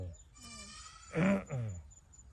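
Goats bleating among a herd of cattle: two close, wavering bleats in quick succession over quiet outdoor background noise.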